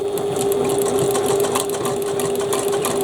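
A Janome sewing machine stitches a taped bag seam, a fast steady mechanical whirring hum running continuously and close throughout.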